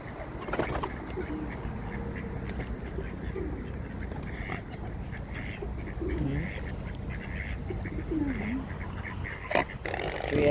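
Ducks by a riverside quack repeatedly at a moderate distance over a steady outdoor background rumble, with occasional louder calls and no clear talking.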